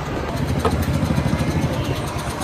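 A motorcycle engine idles with a steady, close, throbbing rumble that holds even for the whole stretch, and no one speaks over it.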